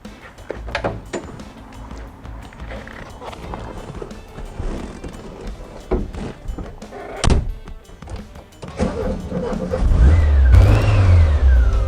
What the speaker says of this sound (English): Now we're going to take the car outside and take it for a spin.